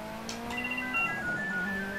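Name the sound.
telephone ringing in the room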